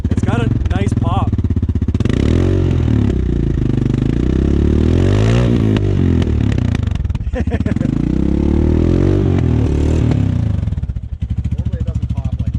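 A Honda Rubicon 500 ATV engine cold starts with a sharp pop and settles into a loud, close, rough idle with revs that rise and fall; voices talk over it throughout.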